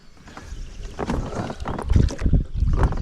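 A motorboat engine on the Siverskyi Donets river gives a rough, continuous low rumble mixed with wind buffeting on the microphone, growing louder and choppier toward the end while fishing from the boat.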